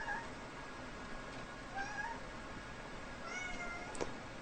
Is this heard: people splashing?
no